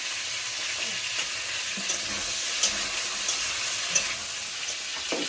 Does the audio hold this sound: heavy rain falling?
no